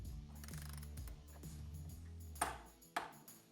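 A torque wrench tightens the front axle nut on a Yamaha TW200 motorcycle to 65 foot-pounds, giving quiet ratcheting clicks followed by two sharper metallic clicks near the end, close up and without talk.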